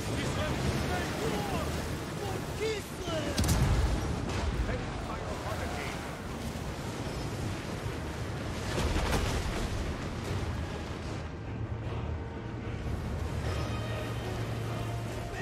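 Cannon fire in the Total War: Warhammer 3 strategy game: a heavy boom rises from a rumbling, windy battlefield din, with someone talking throughout.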